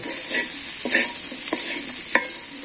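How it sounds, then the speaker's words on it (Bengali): Potatoes frying in oil with spices in a village kitchen, with a steady sizzle broken by several stirring scrapes and clacks at irregular intervals, close by and without speech. "তেল মশলা দিয়ে কষাইতেছে"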